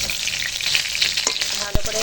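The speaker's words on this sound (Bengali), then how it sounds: "এখন উনুন ধরিয়ে নিয়েছি আর মাছ ভেজে নিচ্ছি এটা হচ্ছে কাতলা মাছ" Pieces of catla fish fry in hot oil over a lit clay stove, crackling and sizzling steadily up close, with a brief clatter or bump near the end and no talking.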